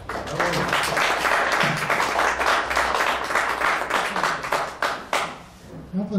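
An audience at a talk on climate change breaks into steady applause, many hands clapping together for about six seconds, with a few voices faintly underneath.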